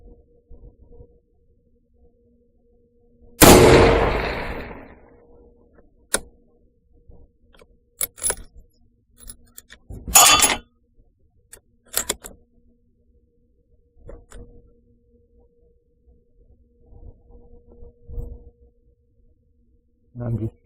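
A Remington 700 rifle fires off a sandbag at a long-range target, with a few sharp, loud shots spaced seconds apart, each trailing a short echo, and someone talking quietly between them.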